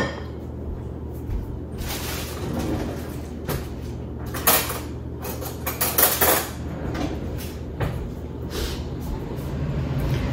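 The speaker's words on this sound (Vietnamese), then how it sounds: "Bây giờ em sẽ lấy bỏ vô cái nồi, em sẽ kho cho lợi." Pieces of braised fish go into a cooking pot with scattered clanks of metal and dishware, several sharp knocks of pot and lid amid steady kitchen background, no talking.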